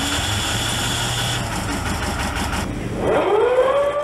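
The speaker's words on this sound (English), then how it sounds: "The coxswain then straps himself in and starts the engine." A totally enclosed lifeboat engine runs at a steady mid-pitched idle, then a rising whine sweeps upward as it revs near the end, loud and close with no talking.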